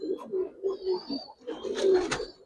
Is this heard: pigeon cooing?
yes